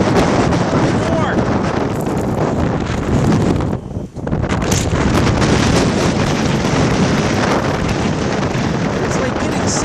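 High wind in a blizzard or sandstorm buffets the microphone as loud, continuous roaring gusts, with a brief lull midway before the blast resumes just as hard.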